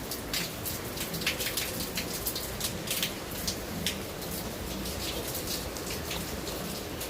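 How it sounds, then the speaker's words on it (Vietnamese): Steady rain falls on a village, a dense, even patter of drops hitting surfaces that continues unbroken throughout with no voices. "Thế là mình mưa suốt 7 tiếng rồi vẫn chưa tạnh."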